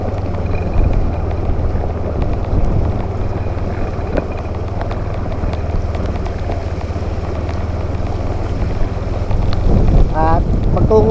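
A boat motor drones steadily through flood water in a typhoon-hit town, a low continuous rumble mixed with wind buffeting the microphone, with voices faintly under it.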